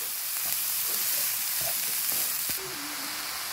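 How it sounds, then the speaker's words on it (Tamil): Chopped carrot, cabbage and onion sizzle steadily in a hot pan, a bright continuous hiss with occasional stirring scrapes and small pops, close and alone without talk. "இதெல்லாம் ஒன்றா போட்டு வதக்கி எடுத்துக்குவோம்."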